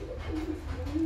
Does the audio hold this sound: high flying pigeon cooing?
yes